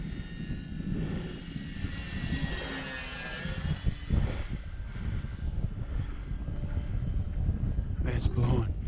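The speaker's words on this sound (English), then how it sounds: "He's been barking at this plane." A propeller airplane drones overhead on a windy day, a steady engine hum underneath with wind gusts buffeting the microphone and brief clatters near the end, the drone staying moderate and continuous.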